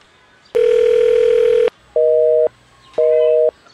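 A telephone tone sounds loudly: one long steady tone followed by two shorter tones with pauses between, clear and close with no talking.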